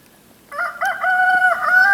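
Backyard chickens crow and cluck in deep, still-falling snow at an off-grid homestead, a sudden loud rooster crow starting partway through and carrying on with drawn-out tonal calls and clucks close to the microphone.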